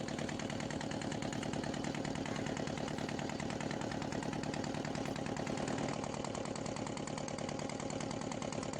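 A ferry boat's engine runs steadily at a river crossing, a close, continuous mid-pitched drone with a throbbing rhythm and no talk over it.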